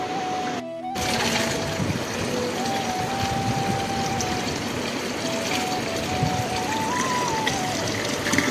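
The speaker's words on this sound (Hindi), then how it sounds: "तो अभी मैं रूम कूलर में पानी भी ऐड कर दी हूँ।" Water pours steadily into a room cooler, a continuous close splashing and trickling stream that runs almost without a break, with a faint hum beneath it.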